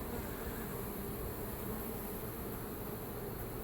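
Dense, steady buzzing of a honeybee swarm during a hive removal in Bartow, Florida, a continuous close drone filling the air with no pauses and no voices.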